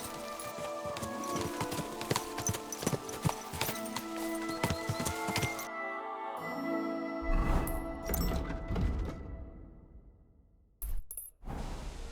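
Horse hooves clip-clopping rapidly in Kingdom Come: Deliverance II, a quick run of sharp strikes that stops abruptly midway, followed by rumbling noise and a few scattered knocks.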